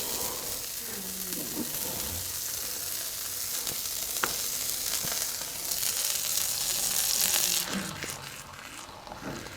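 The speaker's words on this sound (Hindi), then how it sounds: "तवे पे मक्खन लगा के रोटी को इसके ऊपर डालना।" A buttered roti sizzles on a hot tava, a steady close frying hiss that swells toward the end, with an occasional faint tap or scrape.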